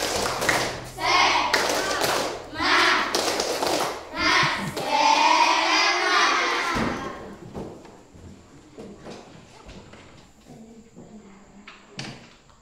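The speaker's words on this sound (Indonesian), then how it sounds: "Boleh kita beri tepuk semangat." A class gives a rhythmic spirit clap: several loud, sharp bursts of group clapping and thumps in a rhythmic pattern, followed by quieter scattered taps and faint voices.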